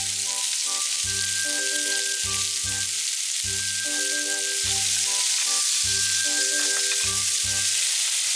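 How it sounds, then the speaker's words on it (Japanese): Shrimp stir-frying in an oiled frying pan, with a continuous bright sizzle and hiss throughout, close and steady, over a soft background of light music. "フライパンを拭いて、油をひいたらエビを炒めます。"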